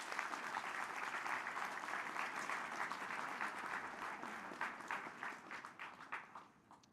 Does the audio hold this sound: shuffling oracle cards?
no